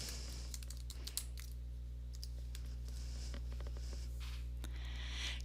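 Someone types a StarID and password on a computer keyboard, with soft, quick key clicks in short bursts over a low steady hum and no speech.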